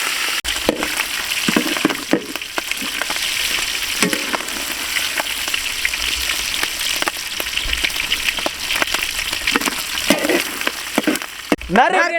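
Loud, continuous sizzling and crackling of mutton frying in hot oil for Pakistani-style mutton karahi, with occasional stirring scrapes and pops.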